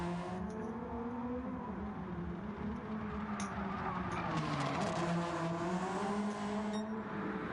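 Race cars including a BMW M2 and a Subaru lapping in Gran Turismo 7, a continuous engine whine rising and falling as cars pass, with tire squeal and skidding mixed in.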